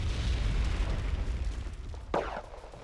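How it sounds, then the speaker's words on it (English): Mortar shells land in a Wargame Red Dragon tank battle, a rumbling explosion fading out followed by a sharp nearer burst, moderately loud with no talking. "Mortars come in to smoke off that T-80 UK."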